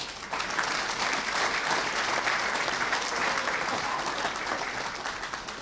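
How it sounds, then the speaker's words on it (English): A club audience at a members' event claps for new members, a steady, moderately distant round of applause that swells briefly and holds at an even level. "Please give all of our new members a grand applause."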